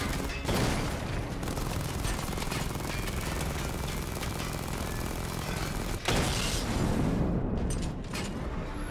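Sustained weapon fire at targets during a system diagnostic test in Batman: Arkham Knight, a dense continuous barrage of rapid blasts and rumbling impacts with a sharp renewed burst partway through, loud and unbroken throughout.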